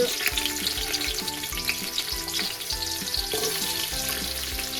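Onions fry in hot oil for chicken biryani with a dense, continuous sizzle and crackle, close and steady, with occasional stirring scrapes and no talking.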